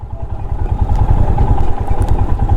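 A Royal Enfield Himalayan BS6 motorcycle rides at night, its engine giving a steady low rumble with continuous road and wind noise and occasional light clatter, loud and close throughout.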